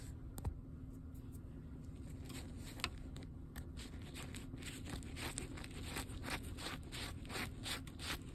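Close, soft rhythmic scrubbing of a face lathered with shaving cream, a quick series of brushy rubbing strokes with faint crackles, heard near the microphone without talk.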